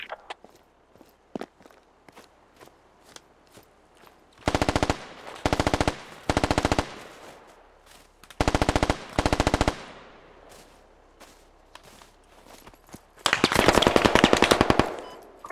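A light machine gun fires in a video game set on a snowy hill, several sustained bursts of rapid automatic gunfire loud and close, with footsteps crunching between the bursts.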